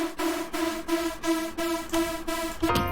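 A detuned saw-wave synth in FL Studio, nine unison voices stacked for a thick, buzzy hardstyle tone, sustains a pulsing held chord in rhythmic stabs, bright and moderately loud with no speech.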